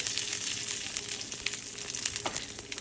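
Peanuts fry in hot oil as a continuous close sizzle with scattered sharper pops and crackles. The sound stays fairly loud and even, with no one speaking.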